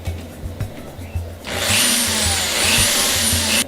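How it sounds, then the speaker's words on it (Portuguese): A power drill bores a vent hole through the side of a wooden drum shell in a drum-making workshop, starting with low handling noises and then a loud, close, steady whine that holds to the end. "Agora a gente vai fazer aqui na lateral do tambor um furo que é chamado de furo de respiro"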